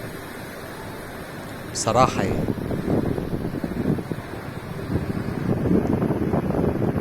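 Sea waves wash on a Brazilian beach with an island and trees nearby, a broad rushing surf roar muddied by wind buffeting the microphone, while someone speaks briefly over it.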